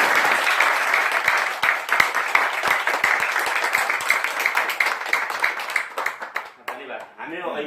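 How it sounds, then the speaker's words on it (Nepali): A Nepali audience at a Nature Herbs marketing seminar breaks into loud, sustained applause with scattered sharp claps, which thins out and fades near the end. "त्यही भएर एकचोटि जोरदार ताली तपाईँहरू"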